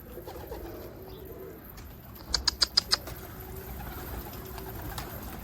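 Dolapçı pigeons coo softly nearby, and a quick run of five sharp wing claps cuts through at one point over a low outdoor background.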